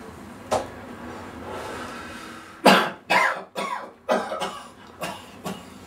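A person coughs in a single sharp burst, then after a pause breaks into a run of about six harsh, loud coughs in quick succession, close up and with no speech.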